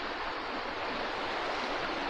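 A small stream in the Maine woods runs steadily, a constant close rushing wash of water with no breaks and no voices.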